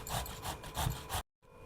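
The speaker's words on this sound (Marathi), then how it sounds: "आता असं आपण किसून घेऊया।" Tender bottle gourd with its skin on being grated by hand, a close, rhythmic rasping of about five strokes, then a short pause before another quiet stroke begins.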